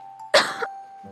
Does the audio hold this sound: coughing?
yes